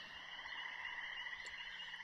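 A frog croaks in a rapid, steady pulsing rhythm, faint and continuous against a constant high-pitched chorus of other calls in the background.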